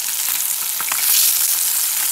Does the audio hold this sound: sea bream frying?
yes